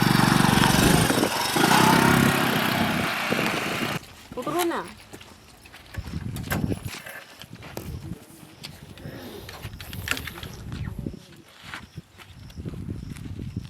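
A tractor engine roars loudly and steadily at a brick kiln for about four seconds, then drops away while voices talk over quieter, uneven background noise.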